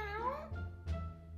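Human voice imitating a cat's meow, a short drawn-out pitched cry followed by a brief second syllable, close and quiet.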